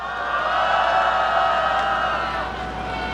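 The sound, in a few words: crowd applauding and cheering at a candlelight rally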